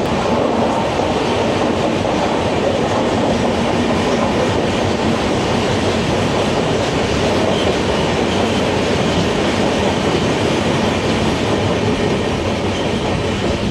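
An Indian Railways Howrah–Digha Tamralipta Express runs on rails, producing a loud, steady, close rumble with a faint clickety-clack of wheels throughout, and no voices.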